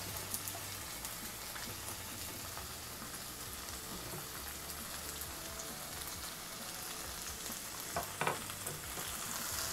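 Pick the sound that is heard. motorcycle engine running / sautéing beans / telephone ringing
sautéing beans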